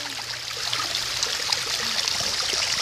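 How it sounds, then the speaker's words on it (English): A waterfall pours in a steady, full rush of white water, a continuous bright hiss that holds at an even, fairly loud level throughout with no voices over it. "What a beautiful view of the waterfall."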